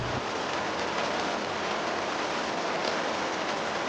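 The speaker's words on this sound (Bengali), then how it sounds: "হতচ্ছাড়ে বৃষ্টি নামতে আর সময় পেল না" Steady, dense rain pours down in an animated Bengali cartoon scene on a rainy day, a constant loud hiss with no pauses and no voices.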